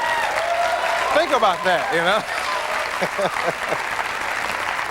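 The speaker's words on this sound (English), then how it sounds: "See, y'all clapping" A television studio audience claps and laughs on a 1991 late-night talk show, a dense burst of applause running under a voice as he keeps talking.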